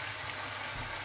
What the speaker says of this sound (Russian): Пошли креветочки жариться.